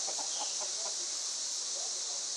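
Chickens cluck softly in short rhythmic bursts during a solar eclipse, set against a dense, steady high-pitched chorus of crickets.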